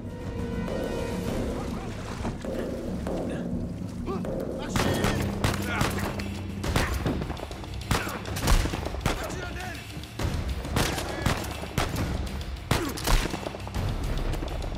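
Rapid gunfire from pirates in Uncharted 4 crackles in dense bursts over loud game music, with sharp repeated shots and booms clustering through the second half.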